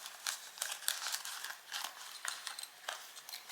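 Cards being slipped one after another into a slim Louis Vuitton Empreinte leather zippered key pouch, making soft, close rustles and crinkly scuffs in short, uneven bursts.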